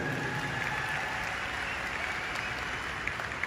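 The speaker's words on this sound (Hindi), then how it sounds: "एक जोरदार ताली आप लोग अपने लिए बजा दीजिए।" An audience at a Shankhnad show speech event claps together, giving an even wash of applause from a crowd that holds steady for a few seconds.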